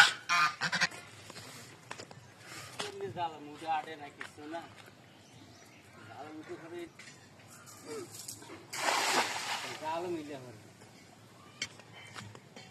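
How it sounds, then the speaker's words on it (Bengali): Domestic Chinese geese honk repeatedly at close to middle distance, sending out irregular bursts of nasal calls, some overlapping, with quieter gaps between them in an outdoor village setting. "দেশি চীনা হাঁস"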